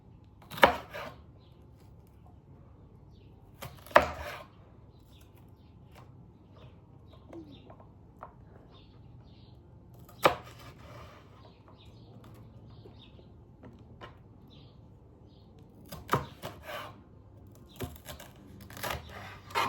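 Peppers for chicken fajitas are chopped with a knife on a cutting board, giving a few sparse, sharp chops spread apart, then a quicker cluster of cuts near the end, with a faint background hum and no talking.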